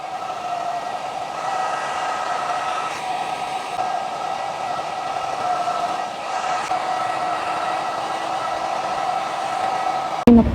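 Xiaomi foldable negative-ion hair dryer blowing in a steady, close, loud whooshing hum with a fixed pitched whine, running continuously and ending with a brief knock.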